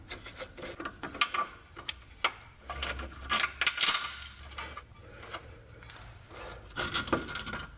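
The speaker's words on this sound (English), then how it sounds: "Now let's take out the center bolt. That's an 18 hex." Ratchet working an 18 mm hex center bolt out of the engine mount on a Mercedes A-Class W169, giving repeated close rasping clicks and scraping bursts with short pauses, no talk.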